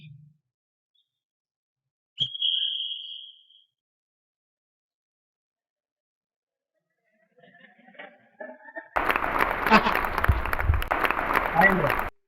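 After a short beep and near silence, schoolchildren at a gurukul sports day break into loud, dense clapping outdoors following a running race, lasting several seconds to the end.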